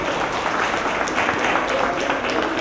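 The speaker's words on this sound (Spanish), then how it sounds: "Un aplauso" A crowd applauds steadily throughout, a dense wash of clapping at even loudness with no pauses.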